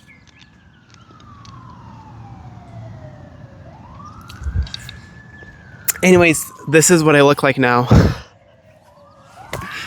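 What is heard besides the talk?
emergency vehicle sirens outside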